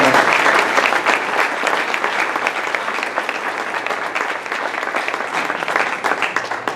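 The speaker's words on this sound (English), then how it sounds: "if everyone would give them a big round of applause" A Rotary club meeting audience gives a warm round of applause for honored members; close, dense clapping continues steadily, easing slightly midway before swelling again.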